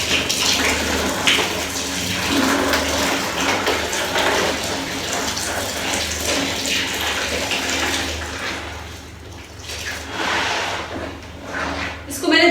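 Hot water runs and splashes steadily while clothes are washed by hand in a home, a continuous broad gushing with sloshing and rubbing, near and fairly loud, with a few brief louder splashes.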